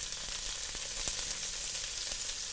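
Thinly sliced red onion sizzles steadily in hot oil in a pan, making continuous bright frying crackle with occasional stirring clicks, close and fairly even throughout.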